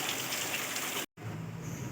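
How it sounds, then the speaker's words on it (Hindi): Rainwater leaks into a house and falls indoors with a dense, steady gushing splash, close by, that cuts out abruptly for a split second and then resumes slightly softer. "ये रहा, इधर से भी पानी गिर रहा है"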